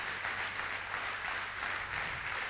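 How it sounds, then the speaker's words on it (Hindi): An audience at a Safe Shop India training session claps steadily and densely for a few seconds, loud and continuous with no voices over it. "एक जोरदार ताली जिन्होंने नहीं बोला उनके लिए होनी चाहिए"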